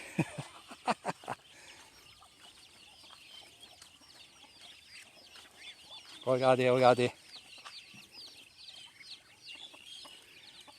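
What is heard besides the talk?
chicks and hens clucking on a Thai farm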